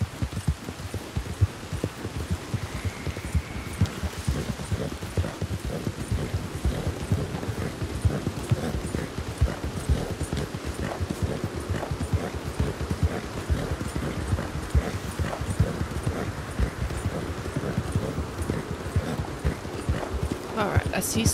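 A horse gallops in Red Dead Redemption 2, its hooves beating a fast, steady clip-clop rhythm close by for the whole stretch, with someone talking over it.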